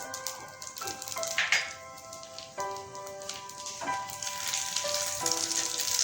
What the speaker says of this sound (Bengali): এবার আমরা এই মাছ ভাজার তেলের মধ্যেই ফোড়নে দিয়ে দেবো রাঁধুনি আর শুকনো লঙ্কা।